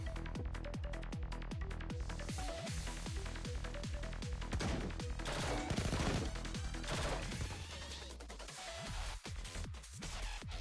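Minigun burst fire from an EX skill in Blue Archive: a steady rhythm of heavy, evenly spaced shots for several seconds, swelling into a denser, louder crash of impacts before tapering into scattered hits.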